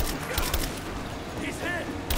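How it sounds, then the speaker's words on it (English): Gunfire in the video game Rise of the Tomb Raider, with a few sharp shots at the start and end around a muffled stretch of battle noise. "I'm in a fighting position. Under fire."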